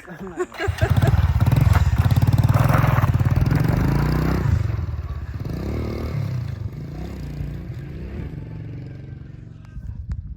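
A scooter engine on a mountain road in Morocco's High Atlas, a machine said to have no brakes: loud, close buzzing that rises, holds, then drops and settles into a rough idle rattle.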